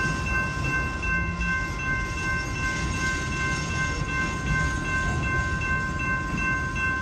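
A long BNSF manifest freight train rolls past the Calwa diamond crossing in Fresno, California, with a loud, steady rumble of wagons and a sustained high metallic squeal throughout.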